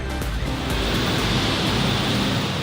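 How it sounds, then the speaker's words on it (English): Hard rain falling outdoors near a city skyline by the ocean, a steady, dense wash of broadband noise that stays constant and moderately loud, with no voices. "I'll give you a view of this hard rain out here."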